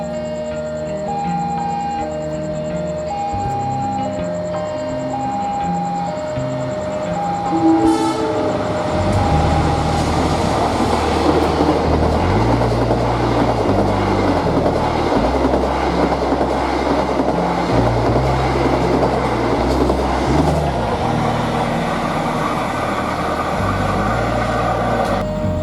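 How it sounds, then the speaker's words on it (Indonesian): The Senja Utama Yogya passenger train on an Indonesian railway approaches with horn toots, then passes close by with a loud rolling rumble and rhythmic clickety-clack of wheels over rail joints. "Kereta api Senja Utama Yogya dari Yogyakarta ke Pasar Senen."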